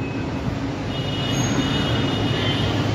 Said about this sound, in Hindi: तो ये ट्रेन तो निकल चुकी है।